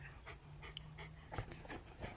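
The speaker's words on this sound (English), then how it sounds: "Just took Frecky for a little walk in Beverly Hills" A dog pants quietly and steadily in short rhythmic breaths after a walk outdoors in Beverly Hills, close by with faint background noise.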